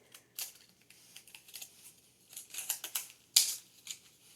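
Scissors cut a circle out of a candy wrapper mold, close and quiet, with a series of crisp snips and rustles at irregular intervals, one sharper snip near the end.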